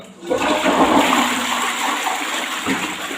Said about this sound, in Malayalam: പത്ത് പതിനഞ്ച് മിനിറ്റ് നമ്മൾ ഇതുപോലെ വെച്ചതിന് ശേഷം ഒന്ന് ഫ്ലഷ് ചെയ്ത് കൊടുക്കാം